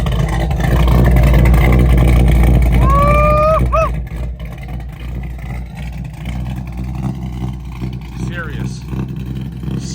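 A 1969 Chevrolet C10 pickup with an aluminum radiator idles with a deep, loud rumble, then a brief rising rev around the four-second mark before settling back to a lower steady idle, with someone talking over it.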